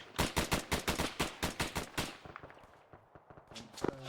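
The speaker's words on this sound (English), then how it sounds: "We need to run towards the gunfire." Automatic gunfire in the video game Arma 3, a fast, loud, evenly spaced burst of about fifteen shots, then scattered fainter shots and distant reports.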